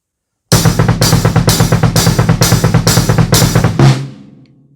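A fast, steady drum pattern of kick drum and hi-hat plays for a few seconds, then stops with a lingering ring.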